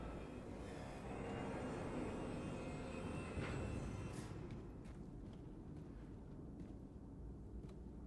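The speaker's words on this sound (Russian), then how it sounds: "У них поезда на реактивной тяге." A jet-propelled train in Wolfenstein II: The New Colossus gives a heavy, steady roaring rumble that thins out and grows quieter after a few seconds, with no talk.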